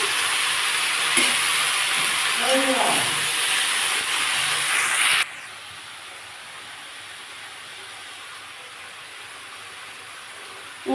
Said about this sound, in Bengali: আমি শাক আর বেগুনটাও তুলে দিয়েছি আমি একটু নাড়াচাড়া করে নিচ্ছি